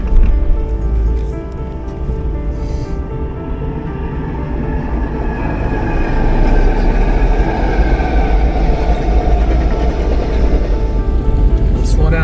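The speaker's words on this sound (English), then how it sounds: "All right, we got a train." A train rumbles past nearby, a loud, steady roar of wheels and rattling cars that swells and persists throughout.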